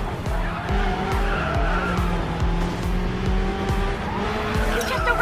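A race car in a racing video game skids through consecutive turns, its engine revving in repeated rising sweeps under sustained tire squeal, loud and continuous.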